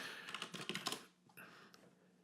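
Rapid clattering keystrokes on a computer keyboard while entering a branch name in a software tool, a quick close burst for about a second, then a few scattered, softer taps.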